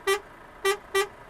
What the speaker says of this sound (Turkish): Bu e, normal kornası.